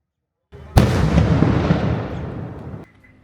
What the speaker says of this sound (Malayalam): അമ്പലത്തിൽ വെടി ശബ്ദം കേട്ടപ്പോഴേ